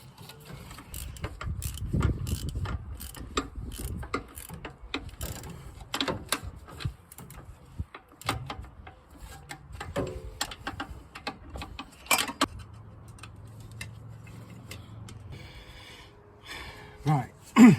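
Ratchet clicking in short, irregular bursts while the water pump bolts on a Chrysler Avenger are nipped up one by one, close and fairly quiet, with pauses and a few small knocks between.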